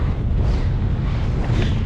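Strong mountain wind buffets the microphone on a hike up the Old Man of Coniston in the Lake District, a loud, continuous low roar with gusty rumble throughout.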